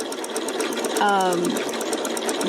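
A sewing machine stitching forward runs in a short, steady whirring burst of about half a second under ongoing talk.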